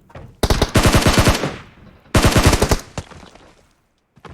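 Automatic weapon fire in the game PUBG Mobile rattles out in two loud, close bursts separated by a short pause, with a few trailing single shots and echoes.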